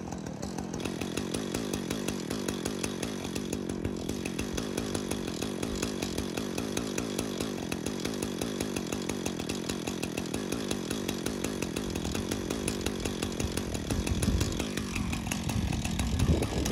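A chainsaw mill rips lengthwise through a freshly cut log to make 1x1 inch stickers, with a loud, steady, close engine drone and rhythmic pulsing cutting strain that continues throughout.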